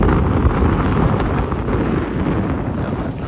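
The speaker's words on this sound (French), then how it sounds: "Il y a un peu de vent là-bas." Wind blowing across open sea on a sailing passage from the Bahamas toward Bermuda, a steady close rushing roar buffeting the microphone throughout, with no voices.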